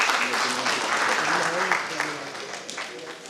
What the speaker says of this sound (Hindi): तालियां होंगी।